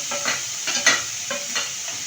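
Vegetables and tomato frying in a pan with a steady hiss of sizzling oil, broken by several scraping stirs of a spoon at an uneven rhythm, close and clear.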